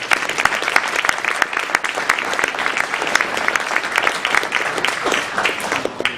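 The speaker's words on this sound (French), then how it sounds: "je vous invite à applaudir chaleureusement." Audience at a talk breaks into warm applause, a loud, sustained crackle of many hands clapping together, with individual sharp claps standing out across the whole stretch.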